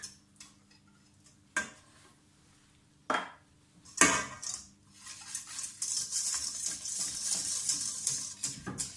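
Ginger, salt, cinnamon and nutmeg being whisked in a stainless steel pot: a few separate metallic knocks and taps, then steady quick whisking strokes scraping the metal, close and fairly quiet.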